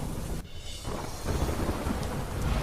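Heavy rain pours steadily as a dense, broadband hiss, with a deep rumble of thunder rolling in beneath it, no voices present.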